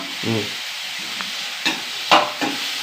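Tomatoes and onions sautéing in oil, a steady close sizzle with a few sharp stirring scrapes of a spoon against the pan, no voices.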